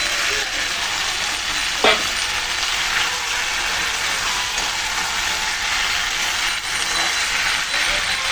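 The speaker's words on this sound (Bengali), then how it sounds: "এখন ভেজে রাখা মাছগুলো আমি দিয়ে দিচ্ছি।" Fried tilapia goes into a sizzling spiced curry of taro and masala with released oil, giving a loud, steady, close frying hiss broken by a single sharp metallic clink.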